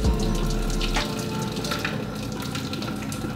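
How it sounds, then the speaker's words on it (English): Water being poured out of a pot of ramen noodles, a steady splashing gush with a brief heavy burst at the start, fairly close and alone. "it says to pour out all this water except for like 7 tablespoons"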